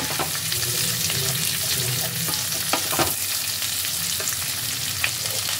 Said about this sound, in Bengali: এবার এর মধ্যে দিয়ে দেব পেঁয়াজ।